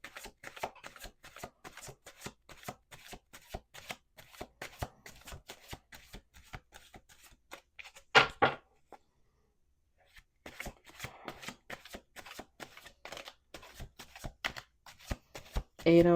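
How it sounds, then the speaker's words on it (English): Tarot cards shuffled by hand in rapid riffling bursts, crisp close-up flicks in quick rhythm, pausing briefly midway before resuming, with a voice talking faintly at moments. "Let's do two more shuffles."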